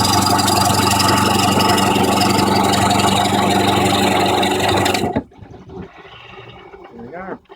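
Wood lathe making a smooth plunge cut into a spinning bowl blank while hollowing, a loud steady broadband whir and hum of the cut running for about five seconds before stopping abruptly, leaving quieter faint sounds afterward.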